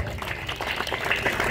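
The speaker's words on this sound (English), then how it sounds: "Please, can you put your hands together as he comes forward? Keep clapping, please." Audience at a groundbreaking ceremony for a memorial hall clapping steadily, a diffuse wash of many hands applauding at moderate volume from across the room, with no voices over it.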